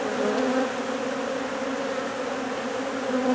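Honey bees from a hive opened to find and mark the queen hum in a steady, dense buzz close by, a continuous drone with no voices.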